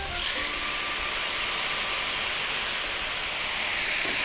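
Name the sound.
kimchi broth simmering and reducing in a pan with pork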